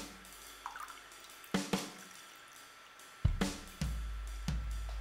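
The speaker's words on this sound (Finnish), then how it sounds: "Sano sitten stop, kun lopetan kaatamisen." Liquid poured into a container, a few sharp splashy glugs and drips in irregular bursts, fairly faint and close, with no voices.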